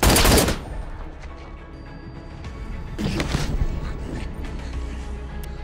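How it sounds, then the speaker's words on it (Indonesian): Gunfire exchange in a sniper revenge action film: a loud burst of shots opens, then a second cluster of sharp cracks follows about three seconds later, with mechanical clatter in between. "terjadi aksi baku tembak antara wanita janda dan pria duda"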